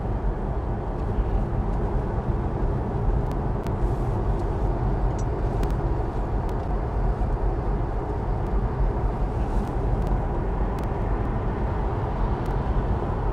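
Road traffic heard from inside a moving vehicle, a steady loud low rumble of engines and tyres with faint passing whooshes and no talking.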